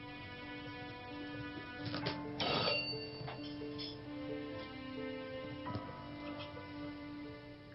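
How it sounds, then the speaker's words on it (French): A telephone rings faintly in the background over steady hum, with a few clicks and knocks around it. "N'as-tu pas entendu la sonnerie?"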